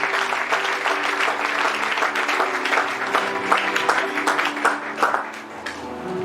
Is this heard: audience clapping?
yes